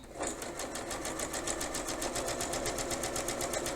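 A sewing machine stitches a French seam at a quarter-inch allowance, its rapid, even needle clatter running steadily and close throughout without a break.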